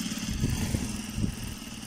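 A sewing machine stitches a back trouser pocket, giving a steady low mechanical hum with a faint rhythmic pulsing throughout, close and moderately quiet, with no voices.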